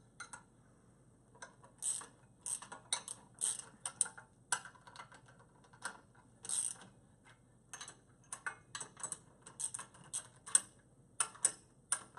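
Brass bonnet of a Clow Medallion fire hydrant being tightened with a hydrant wrench, giving a run of quiet, irregular metallic clicks and ratcheting taps, close and alone.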